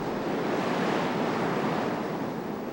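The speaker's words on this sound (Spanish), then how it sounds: "el Océano Pacífico azota con fuerza el litoral" Pacific Ocean waves pound a rocky coastline, a dense continuous roar of surf close by with wind buffeting the microphone, steady and loud throughout with no voices.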